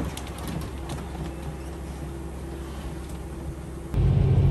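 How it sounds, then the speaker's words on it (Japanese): A diesel railcar pulls away from Kameyama station, its engine a steady low rumble with a droning hum that swells noticeably louder near the end, heard from close by without voices. "亀山駅を帝国で出発、気動車のエンジン音が鳴り響きます。"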